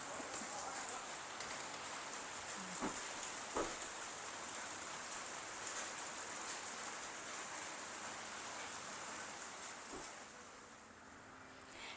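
Rain falls steadily on an open-air veranda of a Thai cafe and restaurant, a constant hiss with a few sharper drips and taps throughout.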